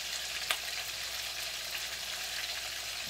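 Milkfish fries in hot vegetable oil, a steady bright sizzle holding evenly throughout with a faint pop or two, no voices over it.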